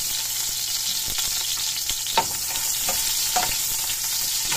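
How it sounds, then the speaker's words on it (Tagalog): Onion and garlic stir-fried in a pan for squid adobo, a dense continuous sizzle close up with a few sharp scrapes and clatters of the spatula. "Ininix natin ang sibuyas."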